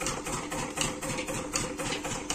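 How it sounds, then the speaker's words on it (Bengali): A large generator engine runs steadily at a farm vegetable plot, a low rhythmic mechanical hum with a faint pulsing beat, moderately loud and unaccompanied by voices. "এটা জেনারেটর, বিশাল বড়।"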